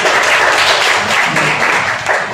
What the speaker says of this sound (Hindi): हमारे पेट के लिए ताली बजा सकते